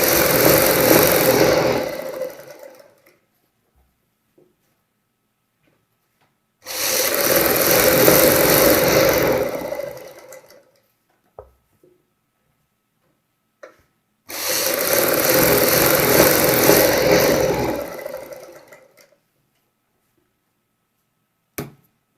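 Sewing machine stitching elastic into palazzo pants in three bursts of rapid, steady running, each a few seconds long, separated by silent pauses.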